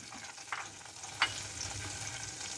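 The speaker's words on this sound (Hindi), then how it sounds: "2 टेबल स्पून में उसमें ये लहसुन जो है वो बारीक करके वो डाल रही हूँ" Finely chopped garlic hits about two tablespoons of preheated oil in a pan and fries with a continuous close hiss, with a sharp spatter or clink partway through and no voices.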